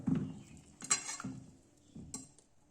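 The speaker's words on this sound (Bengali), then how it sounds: "যা যা উপকরণ আমি নিয়েছিলাম সেগুলো একসাথে ভালো করে মেখে নিতে হবে" Sandalwood pitha dough ingredients being mixed together in a bowl, with a few soft scraping and tapping sounds from the utensil, close and quiet, with no voices.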